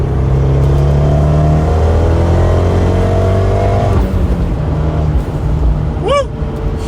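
Turbocharged Abarth 124 Spider accelerating hard at near wide open throttle from about 4,000 RPM: loud, steady engine drone rising in pitch, a brief dip like a gear change, then continuing strongly with a short high squeal near the end.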